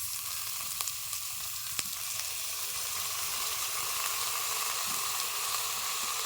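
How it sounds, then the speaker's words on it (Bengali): Soy sauce hits a hot pan of chicken momo filling with garlic, green chilli and salt, giving a steady loud sizzle and hiss with a few brief crackles, continuous throughout. "আর এখন দিয়ে দিচ্ছি সয়া সস।"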